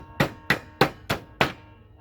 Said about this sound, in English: get large pieces of ice, wrap it in a towel, and then I beat it with this nice little hammer